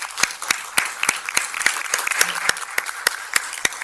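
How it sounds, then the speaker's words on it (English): A small group claps for members of a neighborhood leadership academy at a city council meeting, sparse, distinct hand claps in a loose irregular rhythm, fairly close and moderately loud, with no talking. "a round of applause for all their work"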